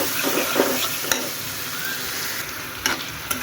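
Garlic and cumin paste with spices is sautéed in a pan for a pangas fish curry, producing a continuous close sizzle with a few sharp scrapes of stirring and no voices.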